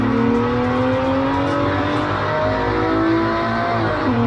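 A BMW 1 Series hatchback pulls hard on the Nürburgring Nordschleife, engine revving up through a rising pitch, close and loud, with a brief dip and climb near the end.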